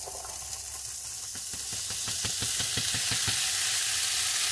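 Onions, peppers and fresh-cut corn for tempeh fajitas fry in a pan, a steady sizzle that swells louder as the corn goes in, with a quick run of rhythmic taps and scrapes in the middle.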